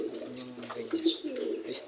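A pigeon coos softly and repeatedly nearby, its low, rounded calls rising and falling against quiet background noise.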